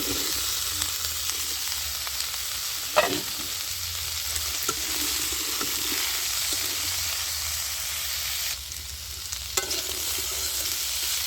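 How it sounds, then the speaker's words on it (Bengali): Carrots and potatoes fry in a pan with ginger, a steady close sizzle running throughout, broken by occasional scrapes and stirring knocks of a spatula. "এবার আমি সবজিগুলো দিয়ে দিচ্ছি। গাজর আর আলুটা আমি দিয়ে দিচ্ছি।"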